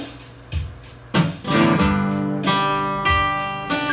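Acoustic guitar chords strummed over a drum beat at 94 BPM, from a song lesson; a steady kick-and-snare groove sits under sustained, ringing strums with no talking.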